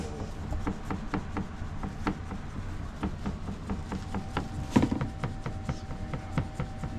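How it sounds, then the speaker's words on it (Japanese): A knife scoring a fish makes quick, repeated light knocks and scrapes against a cutting board, a steady series of small taps with a faint hum underneath. "隠し包丁を押していきます。"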